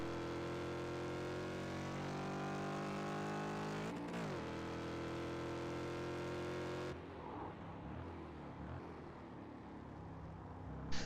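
A race car engine drones steadily at high revs through a corner at Silverstone in a racing video game, with a quick gearchange dip near four seconds and a shift to rougher, lower engine and tire noise after seven seconds.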